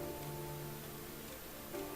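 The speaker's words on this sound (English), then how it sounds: "it's raining really hard" Dense, even rain hisses continuously throughout, heavy and close, with no voices.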